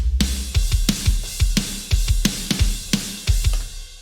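Mixed drum kit with the room mics removed, leaving a close, dry sound: a steady groove of punchy kick and snare hits with cymbal wash across the top, played alone with no talking.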